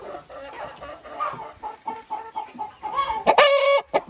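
Chickens, a rooster with hens sheltering from rain under a coop, cluck in short repeated bursts nearby, building to a loud, shrill squawk near the end.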